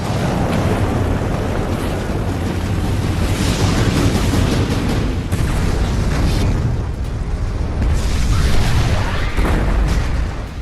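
Loud, continuous roar of blasts and crackling fire as burning ships explode in a fleet, with heavy low rumbling throughout and bursts of debris-like noise, close and dense.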